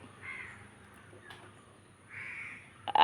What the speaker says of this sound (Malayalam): കാക്കേനെ കണ്ട്, കാക്ക വന്ന്.